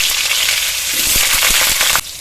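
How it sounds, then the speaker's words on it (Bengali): Potatoes frying in hot mustard oil give a loud, close, crackling sizzle, with a few clacks from stirring, before the sound drops away abruptly near the end. "আলু দিয়ে দেবো, তেল গরম হয়ে গেছে।"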